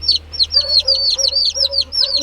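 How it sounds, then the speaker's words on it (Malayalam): Close, repeated high chirps of small chicks peep in quick succession over a low clucking hen, steady and fairly loud in a quiet outdoor yard. "കുഞ്ഞു കോഴിക്കുഞ്ഞുങ്ങളുണ്ട്"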